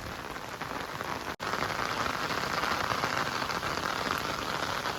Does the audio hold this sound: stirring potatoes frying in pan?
no